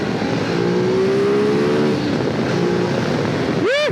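A 2022 Ducati Desert X motorcycle pulls hard under acceleration on an open road, its engine note rising steadily through the gears over heavy wind rush, with a sharp upward rev sweep near the end.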